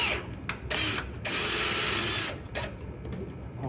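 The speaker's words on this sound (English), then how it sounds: "I'm gonna just pre-drill some holes here" A power drill whirs in bursts, pre-drilling holes in wood beside a pond: two short spins then a longer sustained run, grinding close by with a brief final pulse.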